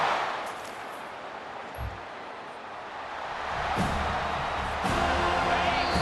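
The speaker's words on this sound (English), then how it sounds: "Listen to this crowd just shaking the girders of this place trying to help." A dense stadium crowd roars throughout a college football game in EA Sports College Football 25, a steady broadband wash that swells louder in the second half with a few dull thumps.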